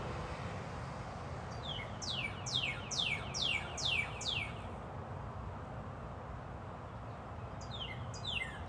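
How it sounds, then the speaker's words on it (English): A loud bird sings outdoors in a run of about six rapid, high descending chirps, pauses, then starts another short burst, heard close over a steady background hum with no talking. "God, that bird's loud."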